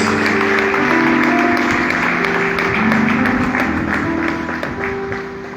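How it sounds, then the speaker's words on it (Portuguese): Congregation in a church applauding together in a broad, sustained wash of clapping, with a steady musical hum running beneath and no talk over it. "Vamos aplaudir ao nosso Deus"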